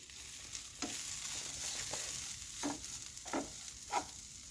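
Masala sautéing in a pan on low flame for a beef roast, a soft steady sizzle with intermittent scraping stirs of a spoon against the pan, fairly quiet and alone.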